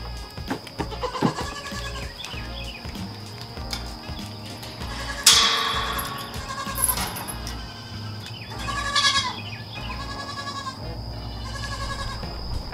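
Goats on a homestead at milking time bleat repeatedly in wavering cries, some near and loud, others farther off, over a steady hum and background animal shuffling, with no talk.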